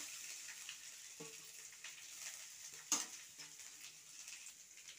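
Grated coconut frying in ghee with cracked cardamom pods for coconut pitha filling: a steady, soft sizzling hiss with faint stirring scrapes and one sharper clatter midway.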